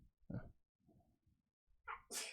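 A single sharp sneeze bursts out at the end, preceded by a few soft snuffling breaths, close and otherwise quiet.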